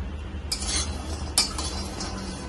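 Walnuts dry-roasting in a pan over a low gas flame: a spatula scrapes and stirs in two brief rattling strokes over a steady low hum, close by with no talking.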